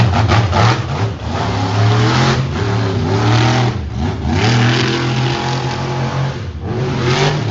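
A monster truck engine at an Evansville summer show roars and revs continuously while the truck turns around, its pitch rising and dipping in loud, close waves.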